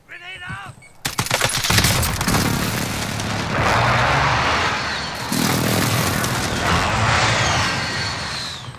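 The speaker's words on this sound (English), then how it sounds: "Enemy precision airstrike." Precision airstrike in Call of Duty Warzone, a burst of rapid gunfire followed by sustained loud rumbling explosions that roll on continuously, with a second heavy blast partway through, all close and dense.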